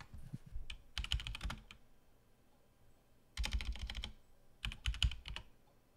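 Rapid keystrokes clatter on a keyboard nearby in three quick bursts separated by short pauses.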